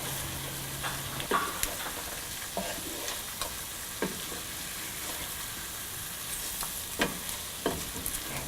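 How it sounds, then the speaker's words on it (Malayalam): Shrimp sautéing with chili in a pan for a shrimp pickle, a steady soft sizzle broken by scattered clinks and scrapes of stirring, heard alone. "മുളക് വഴന്നു കഴിയുമ്പോൾ നമ്മൾ ഷാലോ ഫ്രൈ ചെയ്ത് വെച്ചിരിക്കുന്ന ചെമ്മീനിട്ട് 5 മിനിറ്റോളം ശരിക്കും വഴറ്റിയെടുക്കുക"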